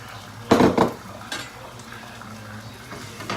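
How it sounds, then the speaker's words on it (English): A spatula breaks up sausage and egg in a frying pan: a couple of loud, close metallic scrapes and clanks, then softer scraping over a low continuous sizzle. "I'm just breaking up the sausage with my spatula here"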